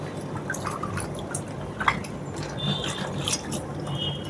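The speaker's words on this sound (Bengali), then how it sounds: "অনেক ভালো করে মাংস ধুইতে হবে" Raw chicken pieces being washed in water in a pot, a steady wet sloshing and dripping with occasional splashes and faint clinks, close and continuous without speech.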